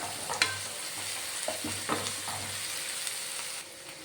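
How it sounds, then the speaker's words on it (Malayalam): Shallots and green chillies fry with long beans in a pan, sizzling steadily while a spoon stirs through them in several scraping strokes, close and moderately loud with no talking. "ഇനി ഇതൊന്ന് വഴഞ്ഞു വരുന്നിടം വരെ ഇളക്കി കൊടുക്കണം"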